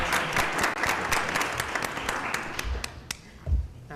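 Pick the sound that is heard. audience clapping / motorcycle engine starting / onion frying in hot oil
audience clapping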